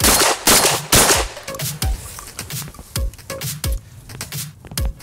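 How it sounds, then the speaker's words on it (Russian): ATA Arms shotgun (NEO12 or CY12) firing standard cartridges, several sharp loud reports in quick irregular succession, each with a short decay, heard close with no talking. "Снимаем с предохранителя и стреляем."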